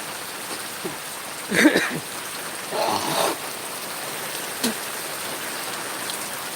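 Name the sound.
heavy rain falling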